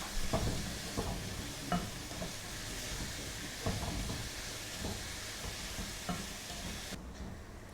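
Chopped onions frying in a pan until golden for pepper chicken, with a constant soft sizzle and hiss and occasional stirring scrapes, moderately quiet and close, without any talk.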